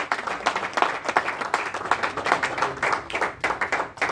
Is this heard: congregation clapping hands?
yes